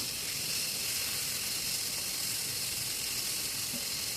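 Eggplant slices fry in hot oil in a pan, giving a dense, unbroken close sizzle with a steady hiss at an even level throughout and no voices.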